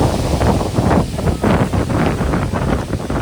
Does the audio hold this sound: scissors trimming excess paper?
no